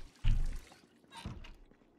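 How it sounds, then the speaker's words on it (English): Water bottle being filled in a video game, two short pouring splashes about a second apart, the first louder, over faint background. "We will fill up the water bottle while we're here."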